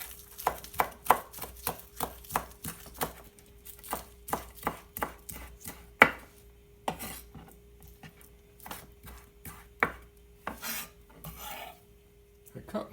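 Knife chopping green onions for a salad of olives, sunflower seeds, raisins and eggs, a quick run of close, crisp chops at first, then slower scattered cuts and rubbing sounds on the board.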